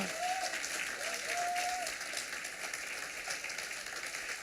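A church congregation bursts into sustained applause for Jesus during a French sermon, dense steady clapping filling the room for several seconds with a brief tonal whistle or voice early on.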